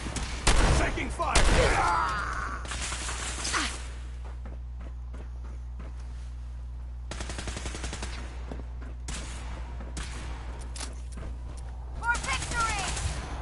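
Video game gunfire in bursts of sharp shots, loudest near the start and again toward the end, with a quieter stretch of scattered shots and movement between.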